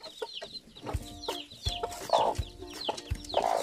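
Several laying hens cluck in a poultry coop with chicks nearby, repeated close clucks and soft calls in an irregular rhythm, occasional low thumps.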